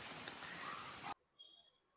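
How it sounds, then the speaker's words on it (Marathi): Steady rain pours down as a dense, even hiss for about a second, then cuts off abruptly, leaving near silence with a few faint, brief high sounds. "तिकडं आहे पाऊस"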